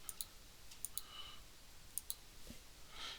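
Several sharp computer mouse clicks, faint and spaced unevenly in small pairs, in a quiet room with no talking.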